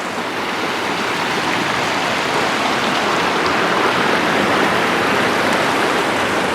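A river rushes through an eroded canyon in a steady, loud, broadband roar. The flow is close and unbroken, with no voices.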